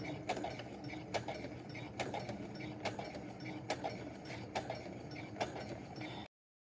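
A domestic sewing machine stitching a simple skirt at slow speed, reversing and then going forward, with soft regular mechanical clicks about every half second over a quiet motor hum, close and fairly faint.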